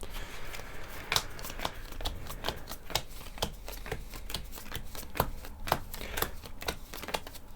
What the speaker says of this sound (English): We have to reshuffle our cards.